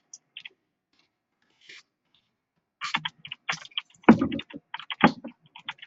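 Typing on a computer keyboard, sparse taps at first and then quicker clusters of close, crisp key clicks with short pauses between them.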